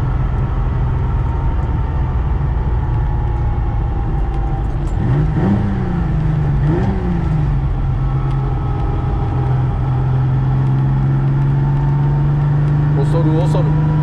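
A Fiat Dino's still-cold engine hums steadily on a racing circuit, its pitch rising and dipping as the driver matches revs through careful gear changes, while someone talks over the engine throughout.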